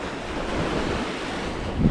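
Sea waves washing onto the shore at Brighton, a steady broad rushing surge with wind buffeting the microphone, close and fairly loud with no voices.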